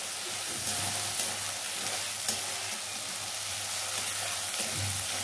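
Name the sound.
frying food until browned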